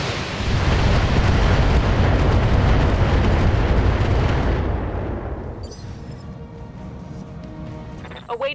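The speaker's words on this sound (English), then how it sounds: "That thing is mortars." Heavy mortar explosions and artillery-like booms in a BattleTech video game, a loud sustained rumbling barrage for about five seconds that then fades into quieter crackling debris and a faint late pop.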